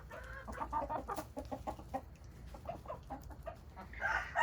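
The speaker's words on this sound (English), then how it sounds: "This little dirty chicken is called a sultan, and they were bred to be ornamental, which means they're pretty to look at." Ornamental Sultan chickens cluck softly and repeatedly in a ranch yard, close by and fairly quiet, with a slightly louder squawk near the end over low background noise.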